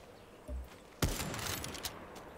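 Gunfire in the video game Far Cry 6, a sharp loud shot followed by a quick burst of further shots, fairly faint overall.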